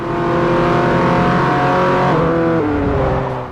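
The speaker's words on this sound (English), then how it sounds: "They just nail all of the car sounds." Car engines from the Forza racing game: a loud, close engine drones and revs steadily, its pitch shifting as it accelerates through the gears, with no talking.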